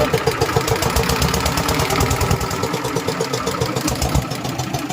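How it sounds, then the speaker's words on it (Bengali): A motorboat engine runs steadily and close by after being started, pushing a boat off a sandbar, a continuous mid-pitched throbbing drone with a rough chugging pulse that holds level for the whole stretch. "নৌকা শুরু হয়ে গেল"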